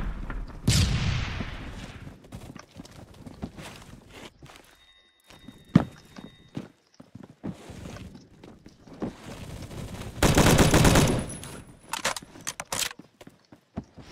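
An STG-44 rifle in the video game Phantom Forces fires two rapid automatic bursts, one short and one longer, with footsteps, clicks and other game noises in the gaps between them. No one speaks.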